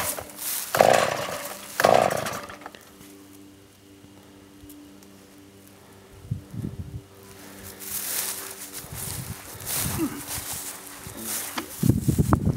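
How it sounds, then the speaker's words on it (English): A chainsaw mill cuts through wood in bursts, with loud broadband roars at the start and rising again near the end, separated by quieter idling stretches. "chainsaw sawmill."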